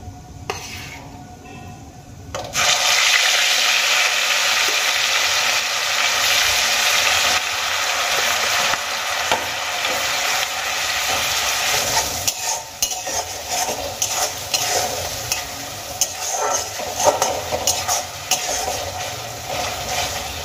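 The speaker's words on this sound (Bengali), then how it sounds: "এবার আমি পেঁয়াজের পেস্ট এই তেলের মধ্যে দিয়ে দেব।" Onion paste from two medium onions sizzles loudly in hot oil for an egg masala curry, with a sudden burst of frying followed by steady spoon stirring and scraping against the pan for most of the stretch.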